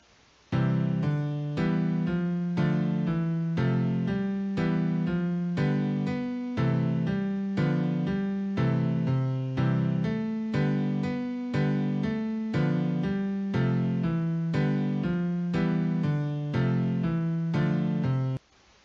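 JFugue MIDI playback of a music string with notes and chords played backwards, a steady synthesized sequence of sustained tones and chords running loud and even for most of the clip, alone without voice.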